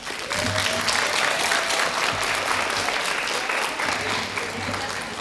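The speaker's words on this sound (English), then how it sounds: "students, look at your family members and give them a round of applause" Sustained applause from the audience at an elementary school promotion ceremony, a dense, even wash of many hands clapping throughout, with faint voices mixed in.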